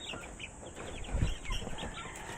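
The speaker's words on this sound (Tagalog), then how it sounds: "Hindi din basta-basta po kasi mag-awat ng nag-away na gansat pato" A goose and a duck scuffle in a fight, giving faint, scattered honks and squawks over a constant background hiss.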